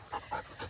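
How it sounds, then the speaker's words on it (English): A dog sits close by indoors, panting in three quick, soft breathy pulses, faint and near. "so if you hear dog panting in the background"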